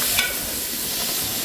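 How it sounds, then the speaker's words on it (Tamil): Ginger garlic paste frying with browned onions in oil in a pan, a bright steady sizzle, close and loud, with a brief stir at the start. "கொஞ்சம் வெங்காயம் நல்லா பொன்னிறமாக வந்தோன்னா இஞ்சி பூண்டு பேஸ்ட்டை அதில் ஆட் பண்ணுவோம்."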